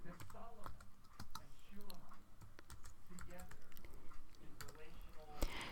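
Quick, light keystrokes clatter on a computer keyboard while someone types into a text editor, with a person talking over the tapping throughout.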